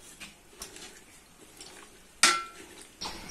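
Bottle gourd curry with tamarind being stirred in a pan: sparse, quiet spoon clinks and scrapes against the metal, broken by one sharp, loud clank and a later knock, with no one talking.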